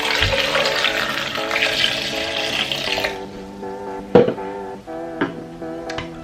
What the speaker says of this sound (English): Now add 1 liter of water.